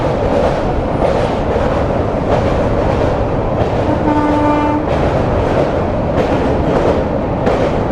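An Amrit Bharat Express train crossing the Bally bridge on the Sealdah to Varanasi route, with a loud continuous rumble and rattle of the carriages and a brief horn blast midway, heard close from on board.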